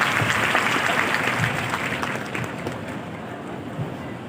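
An audience applauding for the chief minister at a public rally, broad crowd clapping that starts strong and gradually thins out.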